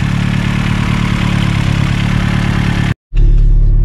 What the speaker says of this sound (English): So let's go and start her up and see if it's made any difference at all.